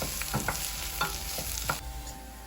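Garlic frying in a pan and being stirred, giving a steady close sizzle with a few brief scraping strokes of a utensil against the pan.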